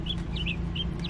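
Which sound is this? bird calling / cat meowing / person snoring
bird calling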